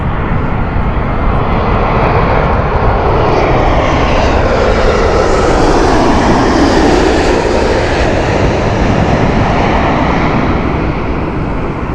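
An Etihad airliner inbound from Abu Dhabi passes overhead on approach to Heathrow, a loud sustained jet roar that builds and sweeps past with a falling whine, no talking.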